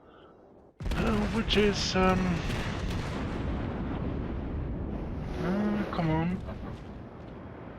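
Heavy guns of the Fuso battleship fire at the cruiser Omaha in World of Warships, a deep booming salvo followed by a long rumbling tail. Someone talks over it briefly.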